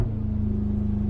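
Mercedes-AMG G63 engine and exhaust heard through a gear shift, a deep steady droning rumble with a strong low hum, held at constant loudness from start to finish without talk.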